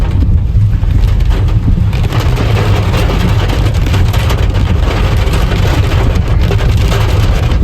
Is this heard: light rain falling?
yes